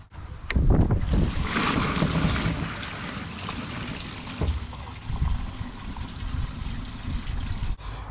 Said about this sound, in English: I'm just going to flush it one more time.